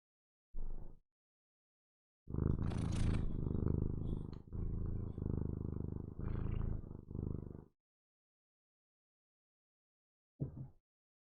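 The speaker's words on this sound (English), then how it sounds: "I had to adjust the microphone a little bit to try and catch the purring." Close, low rumbling cat purr in several pulsing stretches with brief pauses, then silence and a last short burst.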